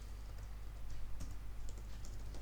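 HTML code is typed on a computer keyboard in a steady flurry of soft, close keystrokes, light irregular taps riding over a low electrical hum with no voices.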